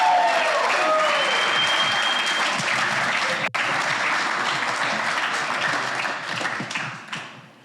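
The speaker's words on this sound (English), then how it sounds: "you guys need to give him a big round of applause." Sustained applause from a team audience at an all-staff meeting, steady and loud across the room before tapering off near the end.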